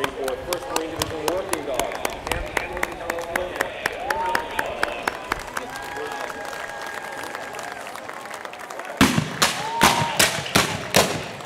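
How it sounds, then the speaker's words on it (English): A parade crowd at the 2016 Armed Forces Day Parade in Torrance, California claps scattered applause for Marine Corps working dogs while an announcer talks over it. Several sharp, loud cracks ring out near the end. "Warm round of applause for them."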